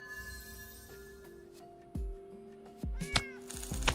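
A cartoonish cat meows several times from a chromatic kitty in the Gacha Capsule Shop video game, short bright cries over soft chiming game music and effects.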